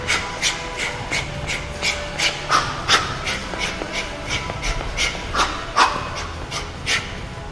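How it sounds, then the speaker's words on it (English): Heavy rhythmic breathing during boxing punches, sharp forceful exhales repeating about twice a second, close and steady with no talking. "Make sure you're breathing on every single punch."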